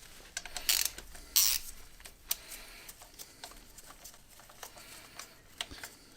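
A ratchet with a 13mm socket winds bolts back in during a MINI One R50 gearbox refit, giving quiet, close clicking in irregular bursts with a couple of louder metallic clunks.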